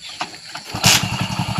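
A bike engine cranks and catches, then settles into a fast, even putter close by, with a short whoosh as it fires, in a village setting.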